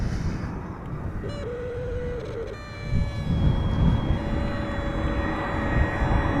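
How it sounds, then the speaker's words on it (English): A brand-new SAS Airbus A320neo departs Amsterdam Schiphol, its engine roar building loud and close with a thin rising whine on top, then holding steady as the jet passes. "A320 Neo SAS Flight 556, destination Stockholm. Brand new airplane."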